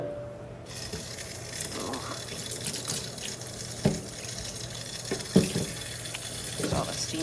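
Cold tap water runs into a sink over pork bones as broth is rinsed, giving a soft continuous splash with a few louder clanks and knocks on top.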